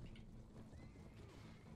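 A horse whinnies in A World of Ice and Fire, a Game of Thrones game: one faint, rising-and-falling neigh over a steady low background rumble.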